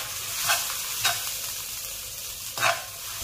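Ingredients stir-fried in three tablespoons of cooking oil in a wok for Thai palo chicken with five spices: a steady sizzle broken by three sharp scraping stirs, close and without talk.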